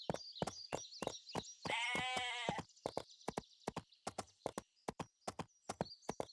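Baby goats in the Barbie Horse Adventures video game bleat once in a drawn-out cry amid a steady run of crisp hoof clip-clops, with faint game ambience behind.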